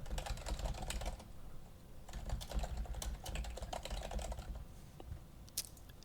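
Rapid keystrokes on a computer keyboard as email addresses are typed in, a steady close-up clatter of clicks with a few brief pauses throughout.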